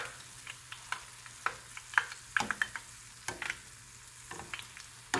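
Buñuelos de viento frying in moderately hot oil, a soft steady sizzle with scattered small pops and bubbling crackles, fairly quiet and close.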